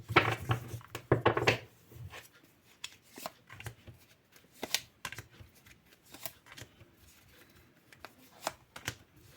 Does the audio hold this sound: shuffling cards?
yes